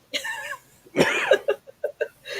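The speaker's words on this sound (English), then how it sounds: "I coughed and laughed at the same time" A short burst of coughing mixed with laughter, close up, trailing into a few breathy chuckles.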